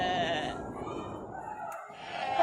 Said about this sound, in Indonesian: Kambing-kambing milik Amir yang berjumlah sangat banyak meninggalkan jejak yang bertumpuk di atas tanah